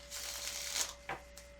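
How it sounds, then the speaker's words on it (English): Quick riffling flutter of a deck of cards being shuffled, followed by a short snap as the cards settle; close and fairly quiet. "I do like to shuffle on camera so that you can see that I'm not rigging the deck"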